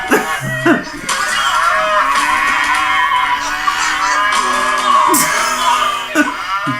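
Cows moo in long, loud bellows, close by and overlapping, mixed with shouting and a few sharp yells.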